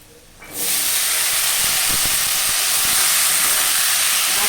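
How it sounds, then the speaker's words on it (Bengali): Washed kundri (ivy gourd) and potatoes hit hot oil with frying onions, bursting into a loud, steady sizzle and hiss that holds continuously after a quiet start. "এখন ধুয়ে রাখা কুঁদরি আলুগুলো দিয়ে দেবো"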